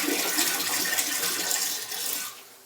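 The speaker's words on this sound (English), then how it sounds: "Pour a good amount in the toilet." RV and marine antifreeze poured into a camper toilet to protect its trap, a steady gushing liquid pour that runs continuously and eases off toward the end, close with no talking.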